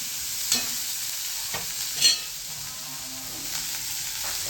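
Chickpeas tempered in hot oil with cumin, mustard seeds, dried red chillies and asafoetida, stirred with a few sharp spoon scrapes over a steady, close sizzle, without talking.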